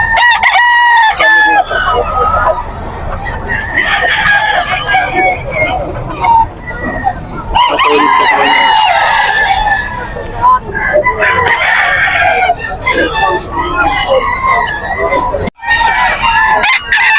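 Roosters, full stags, crow loudly and repeatedly at a busy pet market in Bocaue, with long ringing calls rising over crowd babble, clucking and nearby talk throughout.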